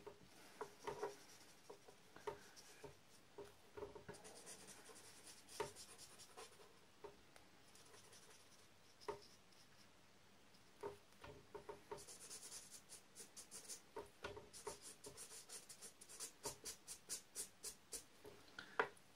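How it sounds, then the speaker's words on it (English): A marker pen scratches and flicks across paper during a drawing, making quick, light strokes in irregular bursts that stay close and faint throughout. "as you flick the pen you'll leave like a lighter tip"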